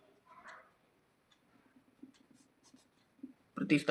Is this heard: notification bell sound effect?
no